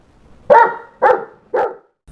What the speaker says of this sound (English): all he saw was his faithful dog Max running toward him.